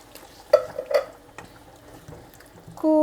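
Canned Italian tomatoes are mixed into a sauce in a pot, with two clanking spoon knocks, then soft, wet stirring, and a bright ringing tone at the end.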